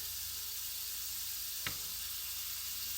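Small shrimp sizzling in a pan while cooking for pasta, a steady close hiss of frying with one brief clink partway through, no voices.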